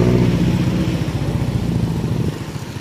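A motorbike rides along a road partly under floodwater between Ban Don Daeng and Ban Khueang, its engine holding a steady, close, mid-pitched drone with a slight fade toward the end.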